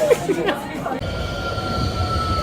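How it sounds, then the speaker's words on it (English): A tram rolling noisily along a city street in Nottingham, a loud rumbling roar with a high steady squeal from the wheels, while people talk close by. "the tram's making a lot of noise"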